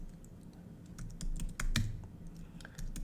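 Typing on a computer keyboard while working on a network switch: a burst of quiet, irregular key clicks close by, with a few sharper presses and no talk.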